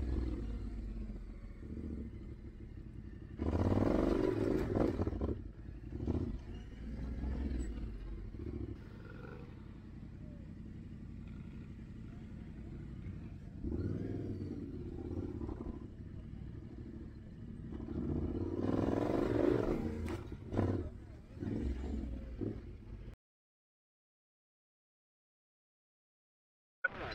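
An off-road motorcycle roars through training, engine surging in long rising bursts over a steady rumble, fairly distant and unsteady, before cutting to near silence at the end.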